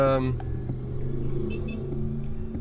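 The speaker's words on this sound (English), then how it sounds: "I'm sitting in this car in traffic trying to get through downtown LA" Car idling and creeping through downtown Los Angeles traffic, a steady low engine rumble from inside the cabin with a voice talking over it.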